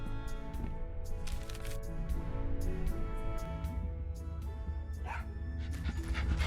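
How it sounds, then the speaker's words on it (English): A small dog in the video game Tales of Monkey Island pants and sniffs with quick rhythmic breaths, up close over a steady game music bed. "Oh, such a cute little dog."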